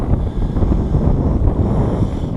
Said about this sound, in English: Wow, it is windy out here. I didn't realize it was that windy.